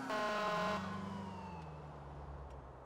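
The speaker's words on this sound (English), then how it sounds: "And then she honks the horn again." A car horn in the video game GTA 4 gives one loud, blaring honk lasting under a second, then fades into a lower, falling, siren-like tone.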